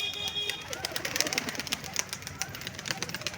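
Pigeons let out of a loft fill the air with soft cooing and bird calls at a moderate distance, with rapid flutters throughout and a faint voice in the background.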